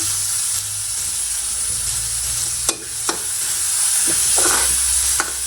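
Onions, chili and curry leaves sauté in a hot pan with cumin for a Malaysian-style pandan chicken, a continuous close sizzle broken by a few sharp scrapes and clacks of a stirring spoon.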